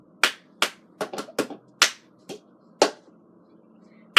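Cup song rhythm played on a cup, with sharp hand claps and cup taps and flips on a tabletop in a steady pattern of eleven crisp hits, and no voices.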